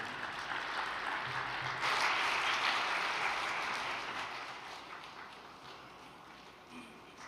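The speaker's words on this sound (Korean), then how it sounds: "큰 박수로 맞이해 주시기 바랍니다." Faint applause from a seated audience welcoming a café manager to the stage, a soft wash of clapping that swells briefly early on, then slowly thins and fades.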